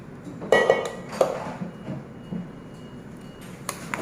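Whipped cream being mixed in a bowl for a Filipino fruit salad, with a few close clinks and scrapes of utensil against the bowl in short bursts over a low room hum.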